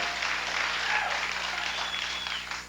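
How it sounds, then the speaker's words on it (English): A television talk-show studio audience claps to vote for one of several shows, with a loud, sustained burst of applause filling the room and fading slightly at the end. "vote for only one by your applause"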